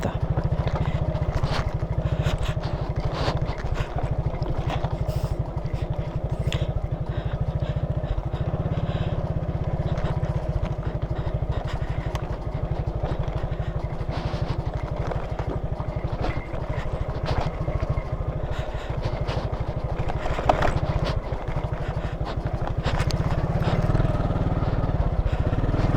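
A scooter ridden over a rough, loose gravel road on a difficult mountain route, its engine droning steadily and close for the whole stretch amid constant rattling and crunching, with a voice speaking briefly over it.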